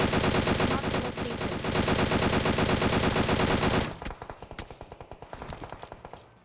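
Automatic M4 rifle fire in PUBG Mobile, a loud near continuous burst for about four seconds, then quieter, sparser shots and bursts trailing off.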